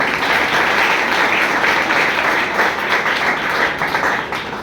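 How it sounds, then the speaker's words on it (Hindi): Students applaud at an Independence Day celebration and poetry gathering at a college, a dense, steady wash of many hands clapping together that holds loud and even throughout. "एक बार साहब के लिए ताली नहीं बजाओ"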